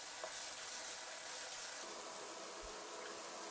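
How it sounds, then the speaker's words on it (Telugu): Onions and finely chopped green chillies fry in hot oil for spicy chickpea talimpu, giving a steady, even sizzle and hiss throughout, fairly quiet and without voices. "ఉల్లిపాయలు బ్రౌన్ కలర్ వచ్చే వరకు వేపుకున్న తర్వాత సన్నగా తరిగిన పచ్చిమిర్చిని కూడా వేసుకుని ఫ్రై చేసుకోవాలి"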